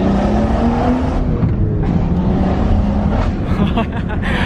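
Loud, close engine of a BMW M240i with a Stage 2+ tuned B58 engine pulling hard in second gear, its rising drone steady throughout with wind noise, and no talking.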